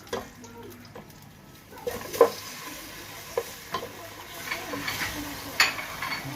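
Pork hits a hot pan over cooked onions, giving a steady low sizzle with scattered sharp clinks and scrapes of stirring; quiet kitchen background with no talk over it.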